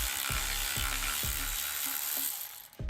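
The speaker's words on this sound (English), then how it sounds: "one of the next steps is going to be removing these 10 mils that hold on" A ratchet loosens 10 mm bolts on wiring-harness brackets near the lower manifold of a 1990-94 Lexus LS400. Several close, crisp bursts of clicking come at a steady rhythm, then stop near the end.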